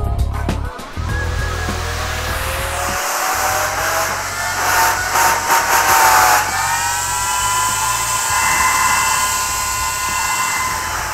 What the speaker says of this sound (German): Und hier nochmal der 120 mm Lüfter mit 6000 Umdrehungen im Einsatz.